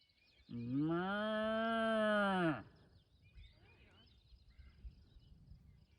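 One long, loud cow moo lasting about two seconds, close by on the Appalachian Trail in Virginia, followed by quiet outdoor ambience with faint rustling.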